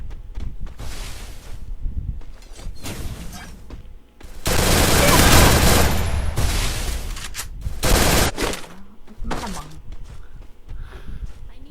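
Gunfire in the mobile video game Free Fire comes in loud, rapid bursts, with a long sustained volley in the middle and shorter shots around it. A player talks in between the bursts.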